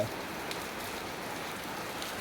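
Rain falling in an even, steady hiss, constant and moderately loud throughout, with no voices.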